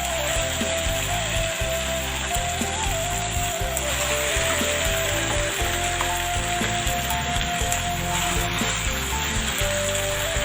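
Chicken pieces sizzle and fry steadily in a hot Teflon pan for grilled-style chicken, a loud continuous crackle with a faint steady hum beneath, no one talking.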